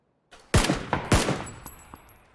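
Gunshots from a gun in a first-person shooter game, two loud close shots about half a second apart, each with a ringing tail that fades out, followed by faint trailing clicks.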